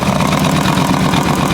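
A 2022 Harley-Davidson Road Glide Special with a 124 engine idles up close, a steady, loud, low rumble with an even throb and no pauses.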